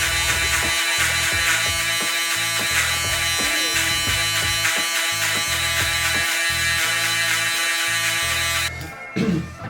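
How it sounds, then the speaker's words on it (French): Electric razor buzzing steadily while fading a haircut with clippers, a close, loud, continuous hum with slight pitch shifts as it moves over the head, cutting off briefly near the end. "maintenant, avec le rasoir électrique, je vais venir gommer celle d'en dessous"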